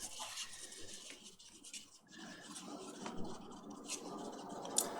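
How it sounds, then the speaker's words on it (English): Epoxy resin stirred in a cup, the mixing stick scraping along the bottom and sides in a continuous quiet, close scratching that rises and falls with each stroke. "when you're mixing, you want to make sure you scrape the bottom and the sides"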